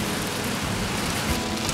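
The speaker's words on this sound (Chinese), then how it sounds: "现在这个雨又变大了" A heavy downpour with hail in Gothenburg, Sweden, is heard from under shelter as a loud, dense, unbroken roar of rain pounding on surfaces.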